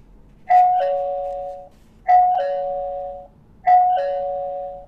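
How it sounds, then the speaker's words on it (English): A two-tone electronic chime from a budget wifi camera doorbell rings three times at an even pace, each ding-dong clear and close with a lingering tail. "you need to press the doorbell again"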